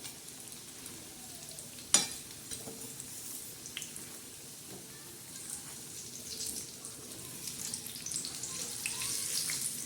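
Green chillies coated in besan batter seasoned with ajwain, salt and turmeric frying in hot oil, a steady faint sizzle and bubbling throughout, with occasional light clinks of a utensil and one sharper tap.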